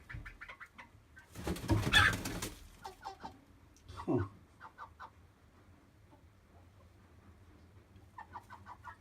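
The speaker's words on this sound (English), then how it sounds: "I'm sure you'll remember the chicken of the week" Several chickens in a coop used as a studio give soft clucks and coos, with a louder burst of flapping and squawking near the start, then quieter scattered clucking; a person briefly murmurs.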